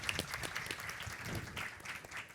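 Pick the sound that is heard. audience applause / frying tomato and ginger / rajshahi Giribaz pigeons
audience applause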